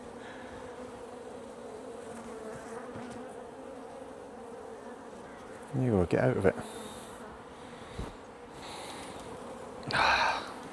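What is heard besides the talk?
agitated honeybees buzzing around the hive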